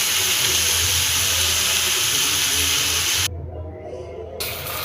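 Polao rice with cinnamon, bay leaf and cardamom fries in a pan, giving a continuous loud hissing sizzle that cuts out briefly before returning.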